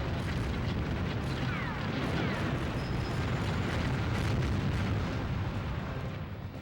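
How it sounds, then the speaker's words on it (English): Tank battle explosions in the N64 game BattleTanx come as a dense run of rumbling booms and bursts, loud and continuous, with crackling debris layered over a deep low roar. "Not with a bang, but with, I guess, several bangs."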